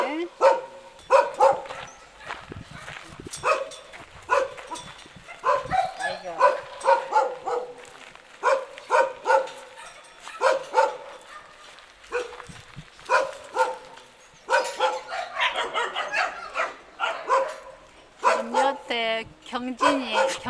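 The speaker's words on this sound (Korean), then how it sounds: "저 새끼들이 시끄럽게 짖네" Several dogs at a family home bark, yip and whimper in loud, choppy bursts throughout, mixed with people talking nearby.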